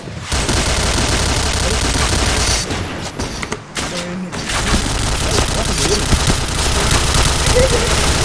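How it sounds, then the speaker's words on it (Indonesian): Dense, loud gunfire rattles nonstop in the online shooter Point Blank, rapid overlapping bursts with a brief lull midway, close and harsh over a busy background. "Gua lagi nembak gak kena mulu"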